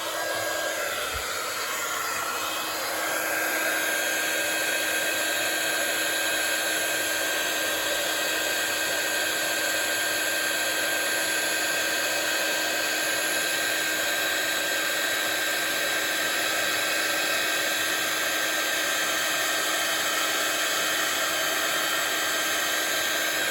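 A heat tool warming a paper craft project gives a loud, constant blowing whir that starts after a brief knock and runs unbroken at close range, with no talk.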